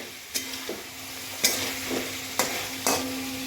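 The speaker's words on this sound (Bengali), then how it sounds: "এবার আমি ভাজা আলুগুলো দিয়ে দেবো, এবং ভাজা আলু আর ফুলকপি সবকটাকে আমি আবার একটু একসঙ্গে কষাবো মিনিট 3 কি 4" Fried potatoes and cauliflower are stir-fried together in a sizzling pan for cauliflower dalna, with a steady close sizzle broken by four sharp spatula scrapes spaced irregularly.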